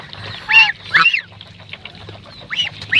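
A white goose honks in a few loud, nasal bursts, two close together, then a pause and two more, over a low background hum with no talking.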